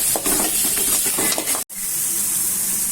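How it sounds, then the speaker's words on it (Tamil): Carrots and beans sautéing with garlic and tomato in a hot pan, a steady close sizzle and hiss with stirring scrapes, briefly cutting out before the frying resumes. "கேரட் பீன்ஸை சேர்த்து வதக்குங்க."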